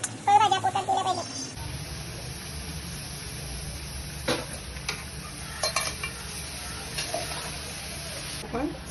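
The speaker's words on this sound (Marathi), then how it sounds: "त्याच्यातच आपण किसलेलं गाजर घालत आहे." Grated carrot hits a hot pan for carrot halwa, giving a steady sizzle with scraping and clinking of a spoon stirring against the pan, fairly close and continuous.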